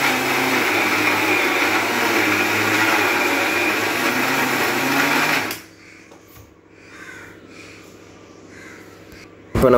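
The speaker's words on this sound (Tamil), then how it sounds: "இப்போ இதை வந்து நல்லா பட்டு போல் அரைச்சி எடுக்கணும்" A mixer grinder whirs loudly and steadily for about five seconds as fish is ground to a fine paste, then cuts off, leaving quieter background noise and a few faint sounds, with a short burst at the end.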